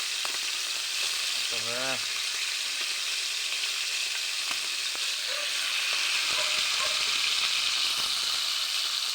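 Pork liver fries in a pan with a constant bright hiss and sizzle, close and even throughout, with a person speaking briefly near the start.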